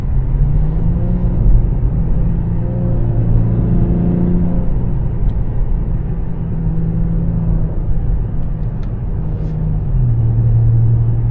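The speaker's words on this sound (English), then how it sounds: "And I do enjoy how the car sounds with the valve closed too." Acura TLX with a custom DIY valved exhaust, valve closed: a loud, steady low engine drone with rising and falling tones from revs, close by, no talking.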